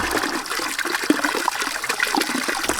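Water at a spring on the Pacific Crest Trail, flowing and splashing steadily up close with a continuous gurgling rush, alone and with no talking.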